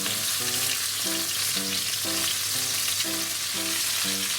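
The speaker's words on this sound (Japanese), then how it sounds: "でもう全面的にいい感じの焼き色がつくまで焼いてあげて" Pork-wrapped rolls of fried tofu, cheese and shiso sizzling steadily in an oil-slicked frying pan, a dense continuous crackle with a light rhythmic clatter as the rolls are turned, no voices.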